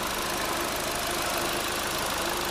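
A 2011 Chevy Cruze's non-turbo 1.8 liter engine idles under an open hood, a steady, even mechanical hum with a faint rhythmic ticking, close and continuous throughout.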